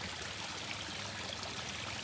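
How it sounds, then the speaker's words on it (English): A small garden waterfall pours steadily outdoors, a soft continuous wash of falling water with no pauses, fairly quiet and uninterrupted by voices. "I sure enjoy this waterfall."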